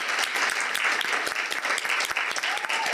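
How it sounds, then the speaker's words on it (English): An event audience at a peace-building gathering claps together in a sustained, dense round of applause, loud and continuous, with no voices over it. "Let's give her a round of applause."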